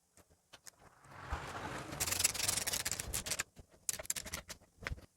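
A negative battery terminal is tightened on a Pulsar 200 FI motorcycle during an alarm install, heard as close metallic rubbing and scraping with scattered small ticks and clicks, fairly quiet, without speech.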